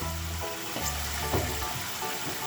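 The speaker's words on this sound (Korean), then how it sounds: "이렇게 찬물에 계속 흔들어 헹구어 주어야 남아있던 흙이 다 빠져요." Freshly boiled wild greens (Oriental false hawksbeard) picked on a mountain are shaken and rinsed in cold water, giving a continuous close sloshing, splashing wash over a low steady hum, with no talk.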